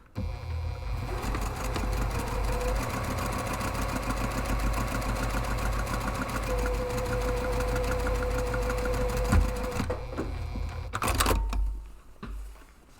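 A sewing machine runs a second row of stitching along the side of a large padded camera bag, a steady mechanical hum with rapid needle knocking for about ten seconds, then slowing and stopping with a brief clatter.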